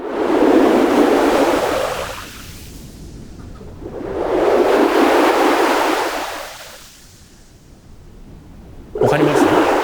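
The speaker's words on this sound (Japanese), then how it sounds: "波の音のウェーブを生成するプログラムっていうものになってます" Computer-generated ocean wave sound from a program, with loud surging washes of noise that swell and recede in slow cycles, alone.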